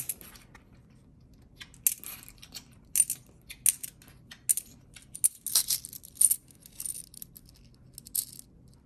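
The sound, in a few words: coins being placed into a prosperity bowl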